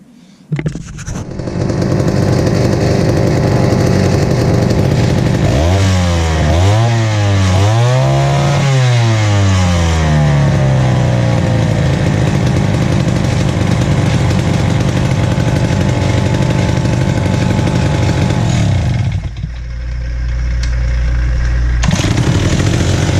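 A Pioneer NU-17 chainsaw's small two-stroke engine sputters to life, revs up and down a few times, then settles into a loud, steady run before briefly dropping off.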